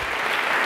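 A dense, steady wash of audience applause fills this brief moment at a fireside chat event featuring Jeff Bezos, loud and without any voices.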